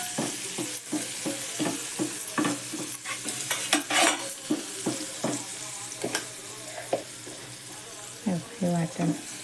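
Ground spice paste for egg curry, with Kashmiri red chili powder, garam masala and turmeric, sizzles in a pan while a spoon stirs and scrapes it in steady, repeated strokes, close and clear.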